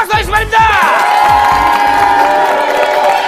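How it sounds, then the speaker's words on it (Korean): A loud game-show audience erupts in cheering and shouts, with some clapping mixed in, a sustained roar of excited voices lasting a few seconds, welcoming a dove magician. "큰 박수 하겠습니다."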